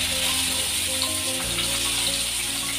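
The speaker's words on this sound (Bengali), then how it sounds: "ওটা প্রথমে শ্রিম্পগুলোকে ভেজে নিচ্ছি।" Shrimp fry in a pan in a home kitchen with a steady, close sizzle and crackle throughout, over a low humming tone in the background.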